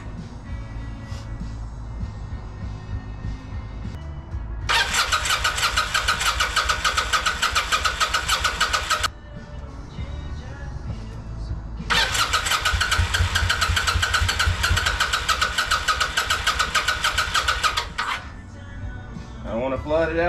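A 1996 Kawasaki Vulcan 800 motorcycle, not run for 20 years, is cranked by its starter in two long whirring bursts of several seconds each, with brief sputtering engine catches and rough idle between them, up close.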